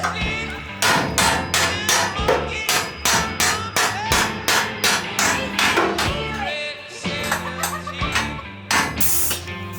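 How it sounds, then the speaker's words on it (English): A chisel is hammered against a stuck car bumper bolt, making a fast run of loud, sharp metallic blows, about twenty in ten seconds, with brief pauses, close and alone. "this bolt doesn't want to come out, so we tried taking a chisel to it"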